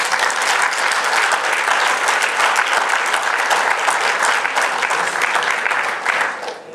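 Audience applause for boxer Brandon Adams at a post-fight press conference after the Boxcino finals, a dense, steady roar of many clapping hands sustained throughout before easing off at the end.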